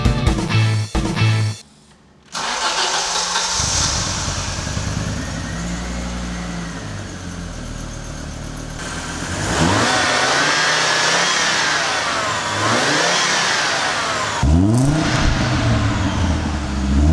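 An Audi Coupe GT engine cranks briefly, catches and settles into a steady running idle, loud and close. Later the revs rise and fall a few times.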